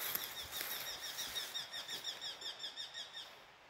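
Birds sing on Pyhäselkä near Iso Pyhäsaari in a quiet outdoor setting, a steady series of repeated high chirping phrases carrying through the calm air at moderate distance, with faint background ambience and no talk.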